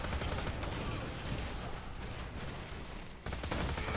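Bandit SMG gunfire in Borderlands 2 in Lynchwood, a dense continuous rattle of rapid shots and game noise that breaks briefly near the end, then resumes.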